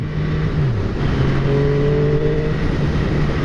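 A 2015 MV Agusta F3 800 motorcycle engine drones and revs steadily, its tone dipping then rising and holding, loud and close throughout with no talk.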